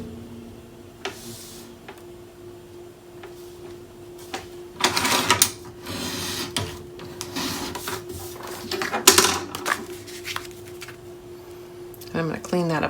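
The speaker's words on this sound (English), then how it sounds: "I'm going to do that in my trimmer" A paper trimmer slices Graphic 45 Christmas-themed scrapbook paper, giving a couple of brief scraping cuts at close range amid quiet handling noises while someone talks.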